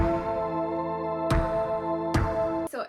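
A flute processed through guitar effects pedals holds a bright sustained tone while two sharp percussive bursts cut through, ending in a glitchy, stuttering flourish.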